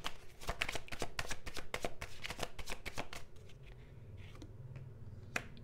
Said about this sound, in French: Je vais juste tirer une carte ici parce que je veux avoir une précision